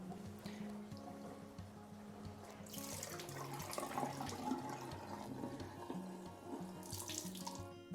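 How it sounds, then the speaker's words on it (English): Tap water runs steadily into a sink while eco-printed fabric with rusty metal residue is rinsed, splashing and gurgling up close with shifting surges as the cloth is handled. "this is just the initial rinse or wash that I'm giving this piece of fabric"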